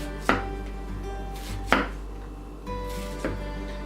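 A carbon steel knife chopping on a cutting board with a pull cut, three or four crisp separate knocks spaced about a second and a half apart, close and alone.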